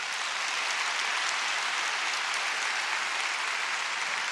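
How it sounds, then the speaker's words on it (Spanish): A church congregation applauds in a sustained, dense wash of clapping that holds steady and loud from start to finish with no break. "Dáselo fuerte al Señor ese aplauso."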